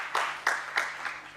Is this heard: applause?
yes